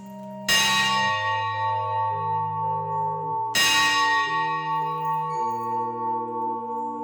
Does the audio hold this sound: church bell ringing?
yes